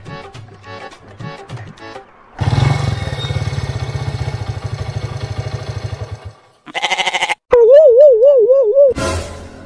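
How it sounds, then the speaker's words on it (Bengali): A motorcycle engine rumbles steadily for about four seconds, then cuts out and stalls. Short bursts of other noise come before and after. "তুই উঠলেই বাইক বন্ধ হয়ে যাইতেছে।"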